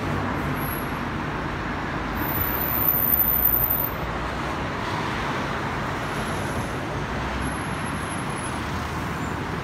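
Steady, dense road traffic on Corso Buenos Aires in Milan on a Monday morning, a continuous broad roar of cars, buses and trucks that swells briefly partway through, with no voices.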